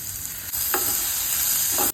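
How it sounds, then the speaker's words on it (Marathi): Onion, ginger and garlic sauté in a pan for masala okra, a steady close sizzle with a couple of stirring scrapes, no talk. "कांदा सॉफ्ट होईपर्यंत परतायचा आलं लसूण कांदा सॉफ्ट झालाय"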